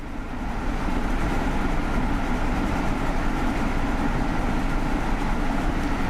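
A train running at speed in the Train Sim World video game, a steady loud rumbling roar of wheels and motion holding constant throughout with no pauses.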